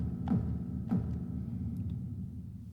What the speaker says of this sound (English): It's a massive kick, it's the heaviest kick in the EMX here